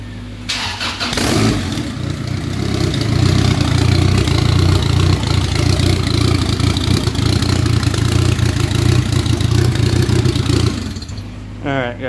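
A boosted Honda Accord F23 engine runs with its valve cover off, a loud steady mechanical drone that starts up abruptly, holds for about ten seconds, then cuts off.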